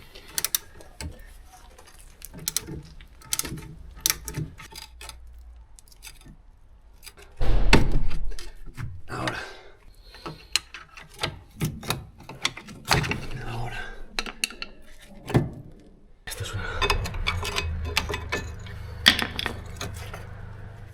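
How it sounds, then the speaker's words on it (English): Brake caliper guide bolts on a Mini Cooper S R53 being worked loose with a 7mm Allen key: scattered metallic clicks, ratcheting and clinks of tools close by, with a few louder clunks and a low rumble between quieter gaps. "The caliper guide bolts also come out with a 7mm Allen key"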